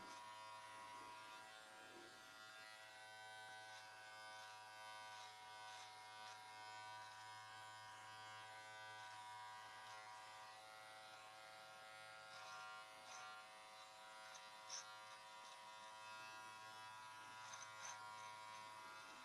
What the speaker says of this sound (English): I love trimming my beard.